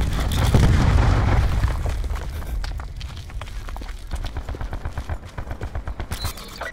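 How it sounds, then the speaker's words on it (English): Cluster grenade blasts in Call of Duty: Black Ops 4 open with a loud, heavy booming burst, then break into a rapid rattle of smaller explosions and gunfire-like pops that continue densely to the end. "Cluster grenade going out."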